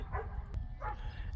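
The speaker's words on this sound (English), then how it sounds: "we got some dogs out here. My neighbor's dogs, a little unruly sometimes" A neighbor's dogs bark outdoors, two distinct barks spaced about half a second apart and heard at moderate distance over quiet background noise.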